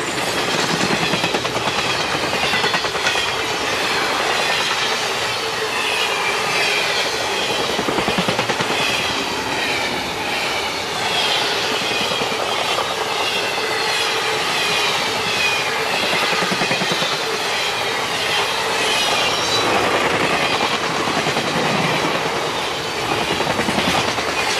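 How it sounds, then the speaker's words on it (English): A Norfolk Southern freight train rolls steadily past on the tracks in winter in Indiana, a continuous loud rumble and rattle of wagons with metallic clatter, lasting throughout with no voices. "The train has now changed direction and is traveling north past some private railroad equipment"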